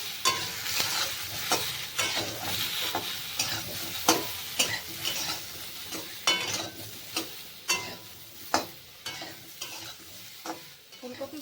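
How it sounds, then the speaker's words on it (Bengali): Cauliflower with turmeric and salt fries toward browning in a pan, a constant crackling sizzle broken by regular scraping stirs about once a second. "এগুলোকে লাল লাল করে ভেজে নেব"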